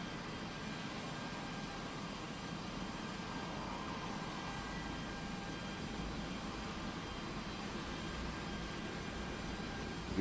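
Tu-154 engine number 3 spooling up in a flight simulator: a steady, moderately quiet turbine whine and roar with tonal hums holding level for about ten seconds, no voices.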